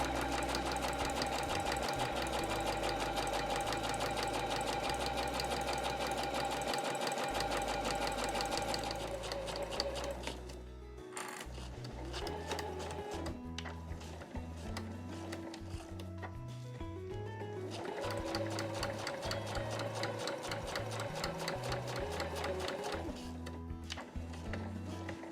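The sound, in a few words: sewing machine stitching both sides of a tote bag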